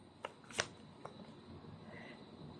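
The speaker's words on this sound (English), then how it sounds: "You saw me shuffle, right?" Tarot cards are shuffled softly in a quiet room, making a few brief riffling snaps and taps spread over a couple of seconds.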